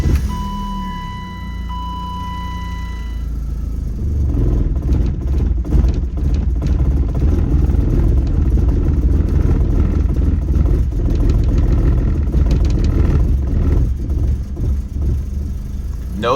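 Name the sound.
BMW E36 Compact engine running rough at idle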